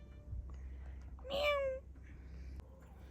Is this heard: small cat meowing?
yes